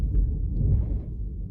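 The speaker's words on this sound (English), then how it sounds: "Y'all hear that thunder?" Thunder outside on a rainy day, a low muffled rumble heard from indoors that swells briefly and then fades.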